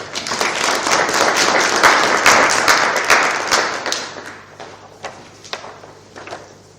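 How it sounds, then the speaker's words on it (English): A seminar audience claps for a speaker walking to the podium, dense applause for about four seconds that thins into scattered, fading claps. "Can we give a round of applause to Advocate Mangambi as he comes to the podium?"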